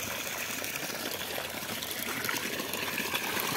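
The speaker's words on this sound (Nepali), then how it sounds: "यहाँनिर एउटा पानीधारा पनि छ," A roadside water spout in a jungle pours steadily, a continuous close gush and trickle of running water with no talking.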